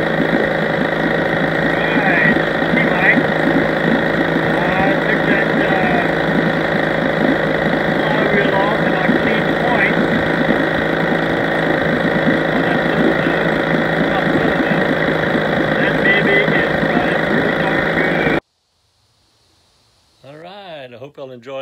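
A vintage 1960 Evinrude 5.5 HP outboard motor runs at a steady, loud idle with a rough, knocking pulse for about eighteen seconds, then cuts to near silence before a faint voice begins.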